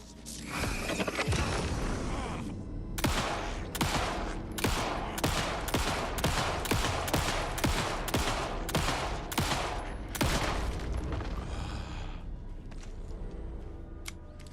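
Video game gunfire, a rapid string of loud sharp shots and bursts in quick rhythmic succession with mechanical clatter between them, near and dominant.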